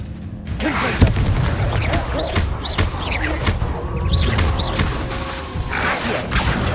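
Confringo fire spell explosions in the video game Hogwarts Legacy, heavy booms and thuds layered over rumbling combat effects, loud and dense with a sharp impact near the start.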